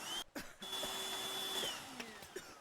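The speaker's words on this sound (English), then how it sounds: "Vacuum cleaner." Vacuum cleaner tool in the Teardown video game, a steady whirring drone running almost the whole clip with a brief cutout and restart near the start, loud and close with no talk over it.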